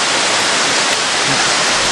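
A waterfall near Taktsang (Tiger's Nest) monastery in Bhutan roars as a steady, dense rush of falling water, loud and close, with no voices.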